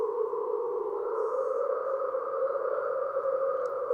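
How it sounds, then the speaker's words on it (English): Wind sound effect used as filler in song production: a steady, hollow whooshing drone that holds at an even level without gusts, soft and continuous. "Wind. Literally just wind, like I said."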